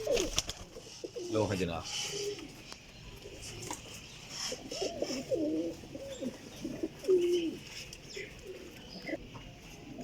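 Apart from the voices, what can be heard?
pigeons cooing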